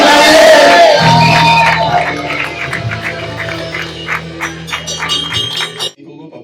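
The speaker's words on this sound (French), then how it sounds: "Est-ce que vous pouvez crier de joie?" Wedding guests at a Congolese celebration raise loud joyful shouts and cheers over a steady low musical drone, with the crowd noise fluctuating and fading out near the end.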